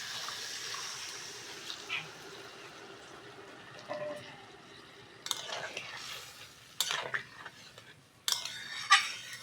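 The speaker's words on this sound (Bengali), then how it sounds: "এবার জল দিয়ে দেবো।" Water goes into a pan of fried spices for a Bengali fish curry with taro and potato, giving soft splashing, faint sizzling and scattered clinks of a utensil against the pan.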